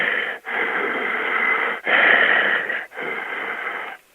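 A voice imitates heavy, deep breathing, giving several long rasping wheezes in a steady rhythm, each drawn breath separated by a brief pause, close and fairly loud over a telephone-like band.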